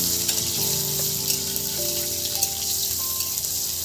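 Chopped green chillies go into a pan of pointed gourd frying without oil, giving a steady close hiss and crackle of sizzling throughout with faint scraping, no voices.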